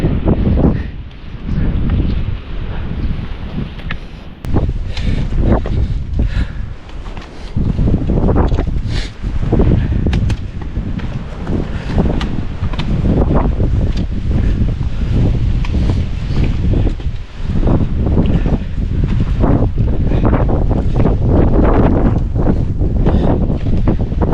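Strong gusting wind roars across the microphone near the summit of Mount Sindoro inside a cap cloud, a loud, continuous buffeting rush with surging bursts throughout and no voices.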